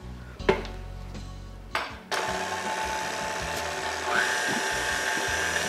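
An electric mixer whirs while beating anise cake batter, starting with a couple of brief bursts before settling into a steady, close mechanical hum that keeps running to the end.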